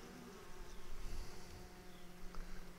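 Honey bees buzz steadily inside a hive during queen introduction to a new split, a soft, dense drone with faint rises and no voices.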